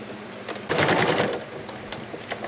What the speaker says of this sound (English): And we're just going to sew this on.